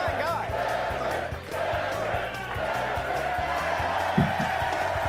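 Audience cheering and shouting in a dense continuous roar, with a rhythmic low thumping underneath and a brief louder burst near the end.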